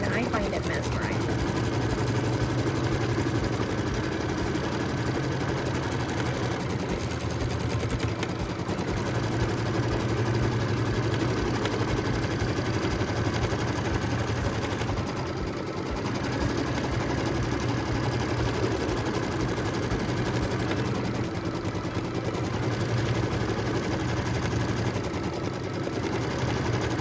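A quilting machine running long straight stitching lines across a quilt block, a steady close mechanical whir and hum with rapid needle rhythm, continuous throughout with a person talking over it.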